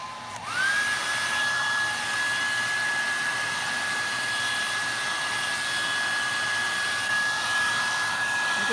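A hair dryer runs steadily at close range, blowing air to dry paint on a colorful DIY chair, with a high whine and a constant airy roar after it switches on.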